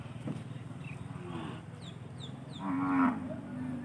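Water buffalo low at a busy livestock market, a deep moo rising in the second half over a steady crowd murmur, with bird chirps faintly overhead.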